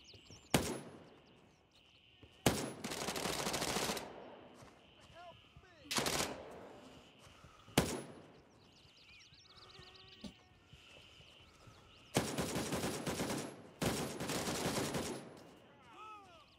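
Bursts of automatic gunfire in a tactical looter shooter video game set in a jungle, several loud sustained volleys separated by single sharp shots, with quieter ambient stretches and faint talk between.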